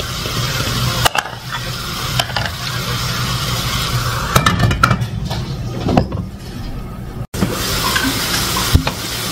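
Carrots and green peas frying with ground meat in a home kitchen pan, a continuous sizzle broken by sharp scrapes and clatters of stirring utensils against the pan.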